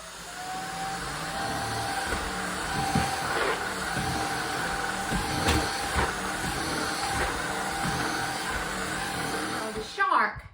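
A Shark Vertex Pro cordless stick vacuum works over a rug with a steady whirring drone and occasional rustling passes, then shuts off abruptly near the end.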